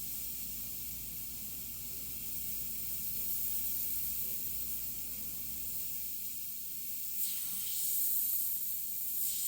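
Airbrush hissing paint onto a Mustang hood over a frisket mask, a steady high, airy spray that runs throughout with slight swells in pressure, close and alone.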